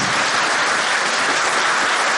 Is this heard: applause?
yes